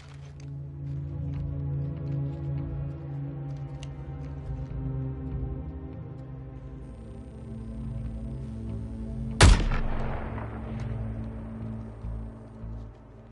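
Single sharp gunshot in a superhero video game cinematic, loud and close with a quick ringing decay, set against a low music and ambience bed.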